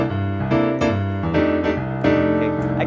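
A few rich jazz piano thirteenth chords ring out one after another, each struck and left to sustain, played alone with no talking.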